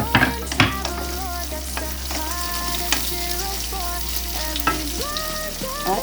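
Sliced carrots hit a hot pan and are stir-fried with other vegetables, a steady loud sizzle punctuated by sharp scrapes and clacks of a utensil against the pan, no talking.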